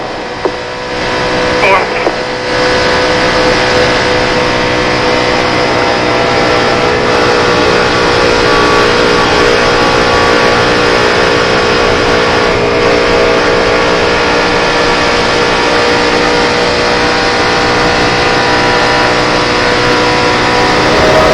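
NASCAR stock cars race at Daytona in the 2006 Pepsi 400, a loud, continuous roar of many engines droning steadily together with no letup.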